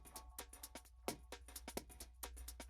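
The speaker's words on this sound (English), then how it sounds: "this is kind of mostly adding kind of that like shuffly hi-hat stuff" Quiet, soloed drum loop of shuffly hi-hats with subtle snare hits ticking in a swung, irregular rhythm over a low steady hum, faint and alone for almost three seconds.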